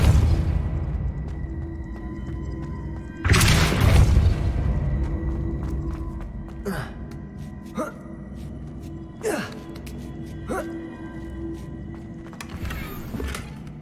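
A Depulso force spell cast in Hogwarts Legacy lands as a loud, sudden whooshing boom, then trails off into a rumbling game ambience marked by several smaller thuds and impacts.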